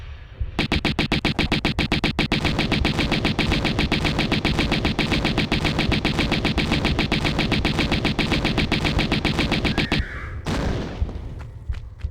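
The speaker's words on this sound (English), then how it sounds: "he will just shoot that ceiling" Rapid, sustained automatic gunfire from an enemy shooting into the ceiling in the Atlantis level of Tomb Raider, a dense rattling burst running about ten seconds before cutting off into a brief scuffle.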